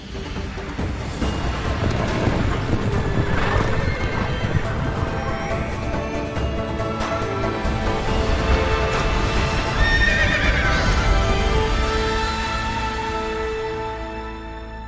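Galloping horses in a video game: a loud, steady drumming of hooves runs throughout, joined by several sharp neighs and whinnies, with no talk.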